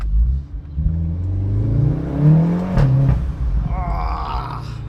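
A VW Golf 7.5 R's 310 hp engine with DSG gearbox revs up close, its exhaust rising to a throaty roar, then rumbling lower as it accelerates away.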